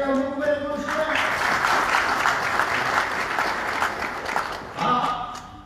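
Audience applause at a book launch event, a steady, loud wash of clapping lasting about four seconds between stretches of someone speaking before and after.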